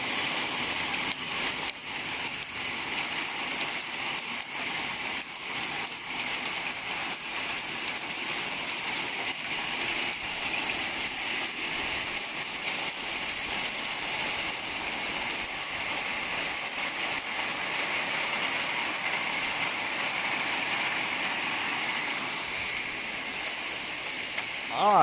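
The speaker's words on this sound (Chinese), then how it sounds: "这是冰雹呀，你看下面这个一粒粒的冰雹啊，雨夹雪啊" Hail and sleet fall in California on a Lantern Festival night, making a steady, dense patter with scattered sharper impacts throughout.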